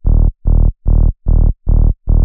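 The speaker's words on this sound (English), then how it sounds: "Just long, drawn out, sustained quarter notes." A distorted synth glide bass for forest psytrance plays six evenly spaced, sustained quarter notes, each a loud, buzzy tone separated by brief gaps, heard alone without voices.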